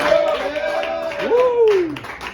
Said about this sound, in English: Clap it up, everybody.